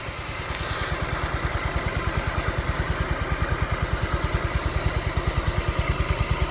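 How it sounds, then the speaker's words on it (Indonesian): A 2012 Honda Vario KZR 125 scooter engine idles up close with a steady, rapid, even putter of firing pulses and a faint mechanical clatter. The sound stays constant and fairly loud throughout, with no voices. "Oke, sekarang kita coba dengar suara mesinnya dari dekat"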